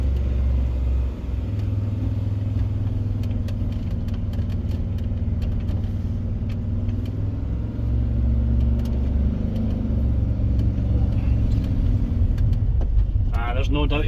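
VW T25 van engine rumbling steadily close by as it pulls away and drives off, a low continuous drone that swells slightly toward the end.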